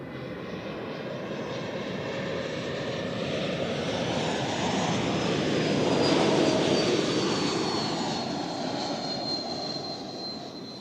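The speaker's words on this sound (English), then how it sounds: "here we have another Swiss A220-100 inbound from Amsterdam Schiphol" A Swiss Airbus A220-100 landing at Zurich Airport after a flight from Amsterdam, its jet roar building steadily as it nears, peaking overhead at mid-clip, then slowly fading, with no talking.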